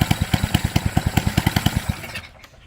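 Small single-cylinder engine on a restored Ruttman mini bike running close by, a loud rapid regular putter of distinct firing pulses that slows slightly and dies away after about two seconds.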